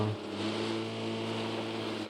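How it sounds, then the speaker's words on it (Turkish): A car engine in the video game PUBG drones steadily at a constant, loud pitch, a continuous low hum with no voices. "sağır oldum ya cidden araba sesinden"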